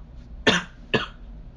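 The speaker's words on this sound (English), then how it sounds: "I'm sorry for the coughing" Two short, harsh coughs about half a second apart, close by, with quiet in between.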